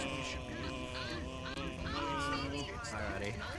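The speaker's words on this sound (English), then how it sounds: "It's a goose." Goose honking inside the VRChat video game, a series of nasal honks repeating over about three and a half seconds against dense background noise, with faint voices underneath.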